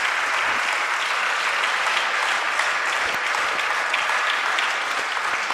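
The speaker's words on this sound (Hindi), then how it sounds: "ये तालियों की गड़गड़ाहट ही बता रही है कि ये लेक्चर बच्चों को कितना पसंद आया है।" Students applauding after a lecture, a dense, steady burst of many hands clapping that fills the space evenly and holds without a break for several seconds, with no voices rising above it.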